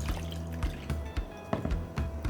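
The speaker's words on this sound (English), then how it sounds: "So I'll wash my hand" Hands splash and rub in water nearby while making millet dough for Hausa koko, with soft drips and small sloshing sounds, quiet and close.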